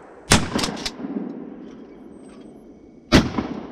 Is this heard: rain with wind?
no